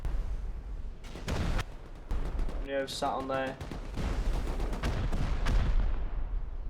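Bombs explode during a base raid in the video game Rust, with sharp bursts and rapid rattling volleys over a rumbling backdrop, mid-distance, while a commentator talks briefly.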